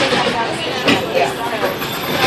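A Walt Disney World Railroad train at Magic Kingdom rumbles and clatters steadily along the track, a close, continuous rolling noise with a faint squeal. No one speaks.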